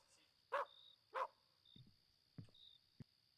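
Dog barking in the video game Tarkov at night: two sharp barks close together, followed by quieter whimpers and yips, with low room ambience between them.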